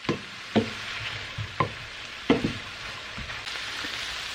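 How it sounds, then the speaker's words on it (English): Galushki sauce with bacon pieces simmering in a pan on lowered heat gives a steady soft sizzle and bubbling, with a few sharper stirring clinks scattered through. "we are going to simmer this for 5 minutes"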